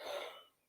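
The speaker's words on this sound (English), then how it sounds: "sorry, I've got the cough." A single short throat-clearing cough, close and fairly soft, fading out quickly with no speech around it.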